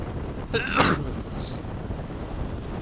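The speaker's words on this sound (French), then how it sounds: "j'ai éternué dans le casque" A single sharp sneeze bursts out, muffled and boxy inside a motorcycle helmet, over steady wind rush from riding.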